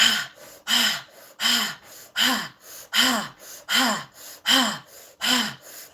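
Deep breathing exercise: eight strong, evenly paced breaths, each a loud sharp inhale followed by a softer release, close up with no talking.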